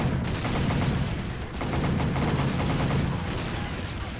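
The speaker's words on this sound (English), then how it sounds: "Here you have to get back on the machine gun again and take out another wave of enemies coming up on the beach." Mounted machine gun in a video game firing at enemies on a beach, rapid continuous bursts with a brief dip midway, loud and alone without talk.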